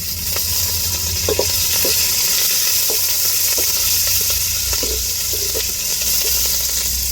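Steady sizzling and crackling of spices, dried chilies and curry leaves tempering in hot oil for coconut rasam, with small pops scattered throughout, close and continuous.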